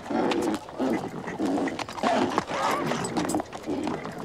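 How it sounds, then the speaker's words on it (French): Horse hooves clip-clopping at a racecourse in a steady, fairly close rhythm of repeated bursts, with some talk and movement heard around them. "Vous faites peur à mon cheval."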